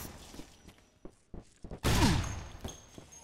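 Gunfire in the video game Loadout: a few faint, scattered shots lead up to a loud, close burst that rings out and fades, followed by softer scattered pops.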